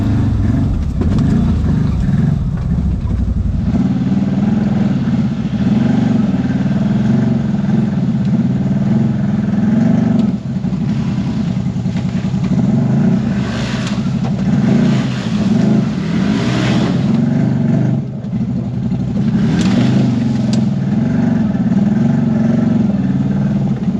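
A CFMOTO Z-Force 950 side-by-side crawling slowly over technical trail at Windrock, Tennessee, its engine a steady, loud, close drone with small throttle swells and no talk.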